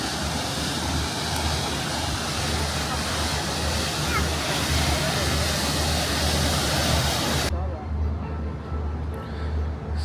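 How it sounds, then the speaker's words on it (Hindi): Waves stirred up across a river by a passing ferry in Guangzhou near Canton Tower rush and slosh in a steady broad roar, with wind buffeting the microphone and talking mixed in. "सारी नदी में लहरें लहरें कर दी है उसने।"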